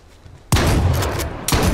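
Gunfire in H1Z1 erupts in two loud, close bursts of rapid shots, the first sharp onset followed by a sustained rattle and a second burst near the end, with no talking.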